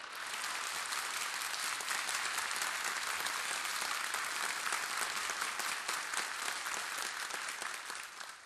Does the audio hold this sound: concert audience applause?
yes